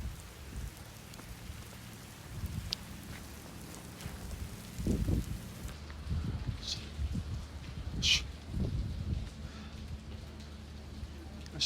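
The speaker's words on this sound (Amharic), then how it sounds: "ዝናቡ እኮ እየበረታ ነው።" Heavy rain falls steadily outside a car in a downpour, a constant hiss with several louder bursts of drops or gusts, and faint voices underneath.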